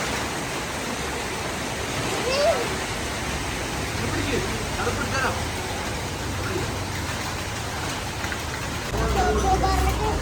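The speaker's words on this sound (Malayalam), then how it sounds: "മഴയത്ത് നല്ല മഴ പെയ്യുന്നുണ്ട്" Steady, heavy rain pours down in a dense, continuous hiss, with a slightly louder surge near the end.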